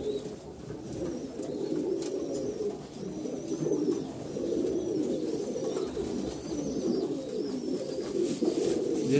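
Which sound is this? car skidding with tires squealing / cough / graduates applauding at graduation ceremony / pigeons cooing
pigeons cooing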